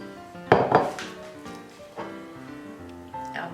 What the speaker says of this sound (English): Now we're going to sift these dry ingredients into the mixture.